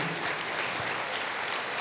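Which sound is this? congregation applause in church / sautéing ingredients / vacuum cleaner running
congregation applause in church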